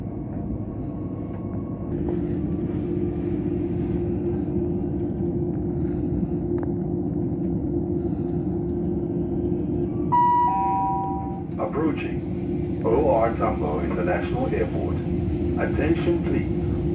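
Inside a Gautrain carriage riding to OR Tambo Airport, a steady low rumble of the moving train fills the cabin, with an onboard chime partway through followed by an automated announcement over the running noise.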